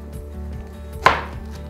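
A single crisp knife chop through half a shallot on a cutting board stands out clearly near the microphone against a quiet background hum.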